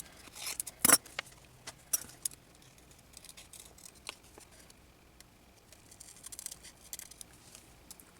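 Scissors cutting out a paper picture for a zine page: a few sharp snips and paper rustles close by, loudest near the start, then faint scattered crinkles in a quiet room.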